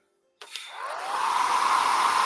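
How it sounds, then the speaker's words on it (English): A hair dryer clicks on and spins up into a steady, airy roar that builds and holds, fairly close and on its own. "The hairdryer when I put it on."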